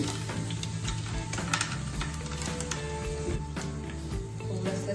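Red chilies and peanuts with curry leaves sizzle in hot oil in a pan, a dense steady crackle and hiss with small popping bursts, close and fairly loud with no talk.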